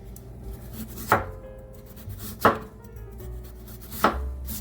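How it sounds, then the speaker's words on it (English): A knife slices baking potatoes thinly on a board, three distinct crisp chops spaced about a second and a half apart, close and clear against a quiet background. "So you want to definitely go ahead and just slice them to, so you want to get them to 1/8 of an inch."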